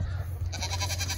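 Goats bleating on a farm where milking is about to start: a single close, loud, wavering bleat breaks in midway over a steady low background hum.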